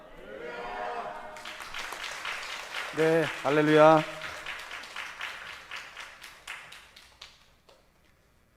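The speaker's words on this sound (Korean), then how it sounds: "뜨겁게 박수로 또 축복하겠습니다" A church congregation at a Sunday afternoon service applauds to welcome a preacher, a soft patter of clapping running under a leader's voice and a brief sung hallelujah, fading to quiet.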